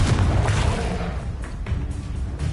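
A Confringo blasting spell going off in Hogwarts Legacy on PS5, producing a loud, close, booming burst with rumbling low end, followed by a couple of sharper bangs and scattered impacts over a short stretch.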